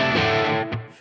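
An electric guitar played through a Czech-made overdrive pedal on a basic setting rings out as a loud, sustained, harmonically rich distorted chord that slowly decays, with a brief pick attack near the end and no voices.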